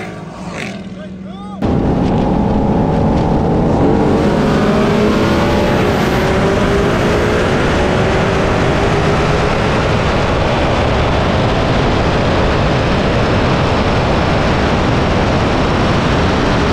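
A Ford Mustang 5.0 and a Chevrolet Camaro SS launching in a drag race, with loud sustained engine roar and rising revs that hold for many seconds, preceded by a short quieter moment.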